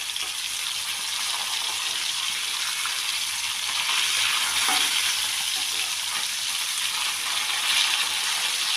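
Sankara fish coated in masala frying on a pan, a loud, dense, continuous sizzle heard up close that swells slightly midway and near the end, with no talking.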